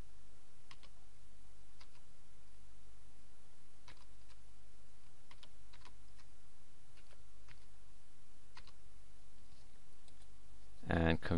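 A computer keyboard is used to type a password. It produces a sparse run of faint, quick key clicks at an irregular pace over a steady background hum, followed by a louder clunk at the end.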